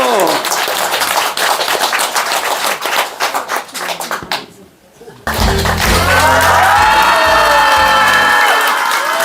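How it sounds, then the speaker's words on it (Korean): An audience at a gathering claps and cheers loudly in a dense, steady wash near the mic, breaking off briefly before a burst of music and voices takes over. "박수."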